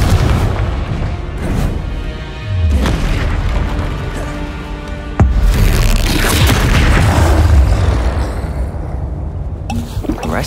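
Confringo fire-blast spells from Hogwarts Legacy go off as loud, booming explosions, several heavy blasts spread across the span with crackling bursts and rumbling tails, close and dominant over game ambience.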